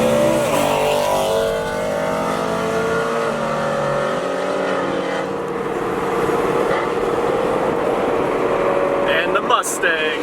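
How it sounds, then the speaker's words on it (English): A Ford Mustang V8 exhaust rumbles loudly for about ten seconds, its pitch rising and falling as the car revs and pulls away, with wind noise and a burst of handling noise near the end. "And the Mustang. God, that thing sounds so gnarly."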